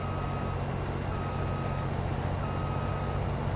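Steady, evenly spaced reversing beeps from a truck in Farming Simulator 22 sound over a continuous low engine drone at Piney Acres during harvest, with no talking.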